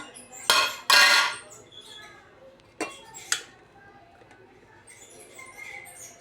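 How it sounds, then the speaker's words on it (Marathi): A lid comes off a pot of veg pulao with two loud metallic clanks close by, followed by softer clinks of metal and a quiet background. "5 मिनिटं झाले, मी परत झाकण काढून दाखवते।"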